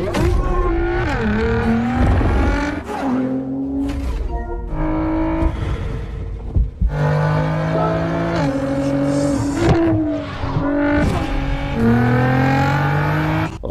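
Race cars in a film sequence, five drivers battling for first place, engines roaring loud and continuous with rising and falling revs and shifting pitch as cars accelerate and pass, no talk over them.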